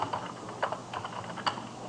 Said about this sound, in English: So I would probably start by typing in the name of the store.